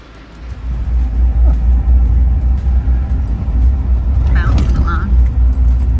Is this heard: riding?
yes